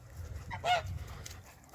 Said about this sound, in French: dans ce parc il me reste un couple d'oies